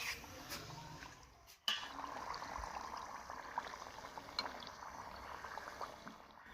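Dough frying in very hot mustard oil, a steady close sizzle and bubbling crackle that runs throughout, with a brief dip and a sharp knock partway through.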